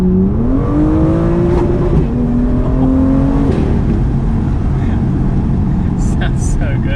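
A modified BMW M2 with an upgraded N55-based engine revs loudly and close up, its tone rising and falling in a few sweeps while someone talks over it.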